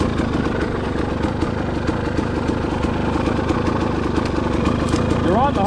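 A motorcycle engine runs loud and close, throbbing steadily as the bike works through deep mud and water, with a voice briefly heard over it near the end.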